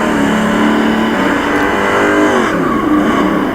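A Dodge Challenger muscle car's engine roars loud and steady during a race, with sustained revving and shifting engine tones and faint tire noise, and no voices.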